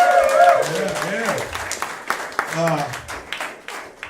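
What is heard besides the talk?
audience applause for comedian's mother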